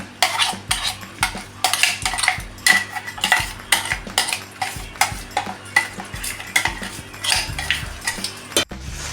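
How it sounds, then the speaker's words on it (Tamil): A spoon scrapes and stirs a thickening tamarind candy mixture in a pan, rhythmic repeated strokes with metallic clinks against the pan and a faint sizzle beneath, close and clear without talk. "இதில் உள்ள தண்ணியெல்லாம் சுண்டி வர அளவுக்கு கிண்டி விட்டுக்கிட்டே இருங்க"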